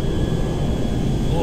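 Spacecraft lifting off in a modded Grand Theft Auto V, heard as a loud, steady broadband engine roar with a low rumble that holds without a break, close and dense.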